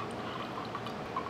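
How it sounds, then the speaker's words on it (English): Water poured over already saturated coffee grounds in a V60 dripper, a faint, steady soft trickle with gentle splashing, quiet and continuous. "Because this is the second pour, we already have the coffee ground saturated."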